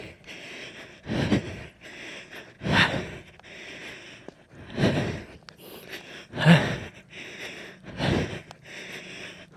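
Heavy, ragged breaths follow a climb up a mountain, about seven loud gasping exhales in an uneven rhythm, close and breathy, with short quiet pauses between them and no talking.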